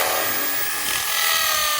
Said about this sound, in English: I'm going to just drill with a spade bit so that the carriage bolt can go through